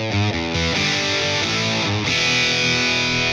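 An electric guitar plays a short run of notes with a lightly overdriven, slightly gritty tone, close and steady in level.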